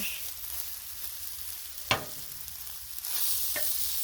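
Beef stir fry sizzles quietly on a Blackstone griddle in a soft, continuous hiss. Two sharp metallic spatula clicks stand out, with the sizzle swelling slightly louder toward the end.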